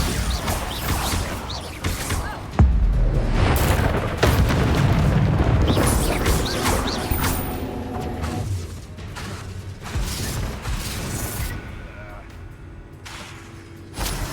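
Bombarda explosion spell from Hogwarts Legacy, amid dense, loud game combat: a heavy boom near the third second swells into sustained roaring blasts with mechanical clanks and crashes, easing toward softer rumbling and scattered impacts.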